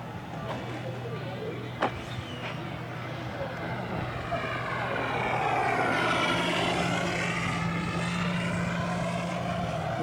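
A World Models 1:3 scale Super Cub RC plane with a 141-inch wingspan flies at St. George, Utah, its propeller engine droning and swelling louder as it passes overhead.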